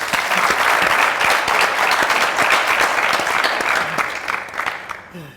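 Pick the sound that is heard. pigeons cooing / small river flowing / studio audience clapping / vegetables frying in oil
studio audience clapping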